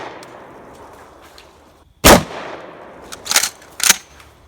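DP12 double-barrel pump shotgun at a shooting range, one loud sharp blast followed after a pause by two more close bursts of firing and mechanical action, with faint ambient noise between.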